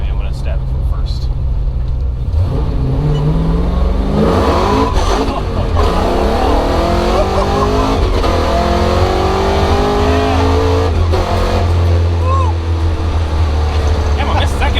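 A supercharged Chevy Nova accelerates hard from first gear, its loud engine revving and rising steadily in pitch across a sustained pull, heard from inside the car with a person talking over it.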